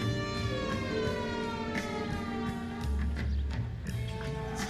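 A police car siren in the L.A. Noire video game holds a steady, droning tone for several seconds over a low engine-like rumble.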